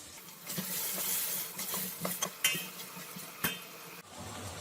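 A spoon scrapes and knocks against a cooking pot while carrots and diced potato are stirred, giving irregular clinks and a soft sizzle underneath, close and fairly quiet with no talking.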